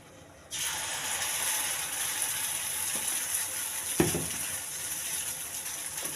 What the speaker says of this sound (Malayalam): എണ്ണ പരട്ടിയതിന് ശേഷം നമുക്ക് ഒരു തവി മാവ് കോരി ഒഴിക്കാം.